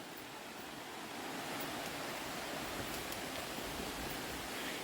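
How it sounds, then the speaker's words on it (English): River flowing below a rocky trail in the Smoky Mountains near Cherokee, a faint, steady distant rush of water with no voices. "I don't know if you can hear the river down there."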